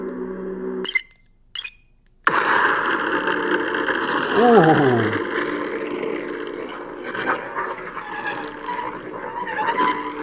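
A whooshing, engine-like hum with a rising and falling whine, like a futuristic speeder, follows two sharp ignition bursts from a lightsaber sound font called Engine Grip; a voice exclaims briefly.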